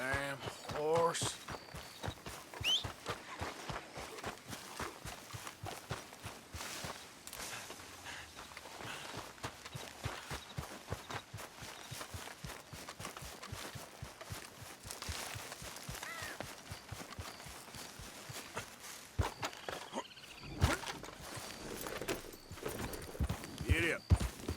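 Steady clip-clop of horse hooves walking at an even pace in Red Dead Redemption 2, fairly close, with some talk and muffled background sounds mixed in.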